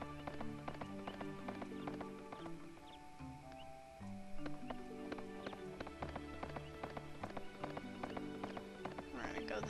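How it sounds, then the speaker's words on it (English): A galloping horse in Suikoden III, with rapid rhythmic hoofbeats running steadily over layered game music, fairly quiet in the mix. "No, we don't want a trotting horse, we want a full-on gallop."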